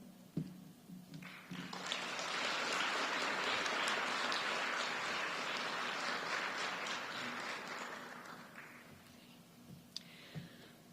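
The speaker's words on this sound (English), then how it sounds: "Let's give another round of applause for all of the students." Audience applause at a state poetry recitation finals, a dense wash of clapping that swells in after a moment, holds steady for several seconds, then gradually thins out, with no talking over it.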